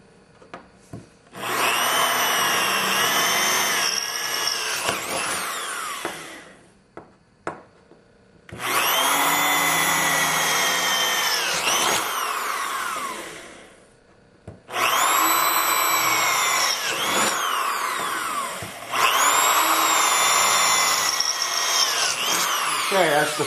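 Power drill boring four holes through wood to rough out window openings, running in four long loud bursts of several seconds each with short pauses between, close to the microphone.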